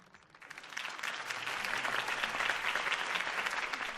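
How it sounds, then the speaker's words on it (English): Applause in the video game Batman: The Telltale Series swells from a scattered start into steady, dense clapping from a crowd, sustained and fairly close. "could have heard that applause"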